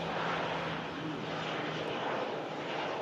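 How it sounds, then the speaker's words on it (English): A Pilatus PC-12 turboprop holding for engine run-up checks on a gusty day, heard as a steady, fairly loud propeller-engine drone with a low hum that holds constant throughout, with no talking. "PC-12 holding to do run-up checks."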